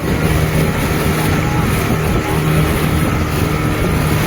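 A motorboat engine drones loudly and steadily throughout, mixed with wind and water noise, on the sea off Kudle Beach in Gokarna.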